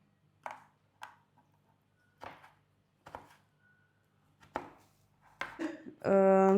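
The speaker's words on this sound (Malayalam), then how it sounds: "നമ്മൾ ചെറുതായിട്ട് എല്ലാം കട്ട് ചെയ്തെടുക്കുന്നു കേട്ടോ." Sugar-coated candied dried fruits chopped small with a knife on a board, a series of about seven crisp, close knife strikes at uneven intervals, ending in a loud, ringing tonal burst.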